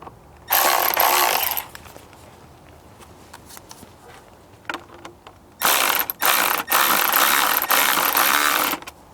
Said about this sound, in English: We'll tighten this side down a bit, that side, and we'll kind of alternate so it tightens down nice and even.